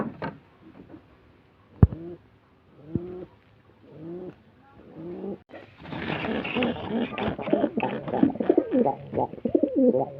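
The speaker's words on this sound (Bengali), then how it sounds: "তো এখন সবগুলো কবুতরকে ছেড়ে দিব।" Pigeons let out of their coop on a farm during morning feeding: soft cooing and bird calls build up and grow dense through the second half. A sharp knock comes early, with a few voiced sounds before.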